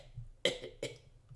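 Two short, sharp coughs a moment apart, close and fairly loud, against a quiet background.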